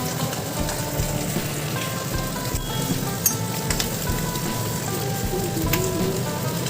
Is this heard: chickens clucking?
no